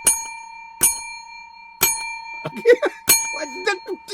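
Four bright bell dings ring out at intervals, each sustained tone hanging in the air, with speech starting up between the later strikes.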